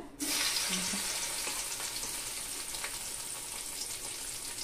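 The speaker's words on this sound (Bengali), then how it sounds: "সয়াবিনটাকে জলটাকে ভালোভাবে এভাবে চেপে চেপে জলটাকে কিন্তু ঝরিয়ে নিয়েছি, এই দেখুন আরও জল বেরোচ্ছে।" Water running and trickling out as soaked soya chunks are pressed and squeezed by hand in a kitchen, a steady close splashing flow that continues for several seconds with no talking.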